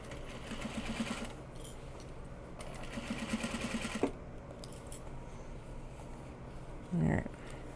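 A sewing machine stitches fabric in short bursts of rapid, even needle chatter, pausing between runs, with a couple of clunks and a louder thump near the end.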